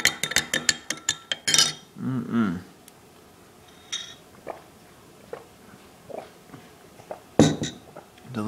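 A spoon clinks quickly against a glass of mixed coconut, regular, hemp and rice milk, a rapid run of close bright taps followed by scattered softer clinks and a louder knock, with a voice talking in between.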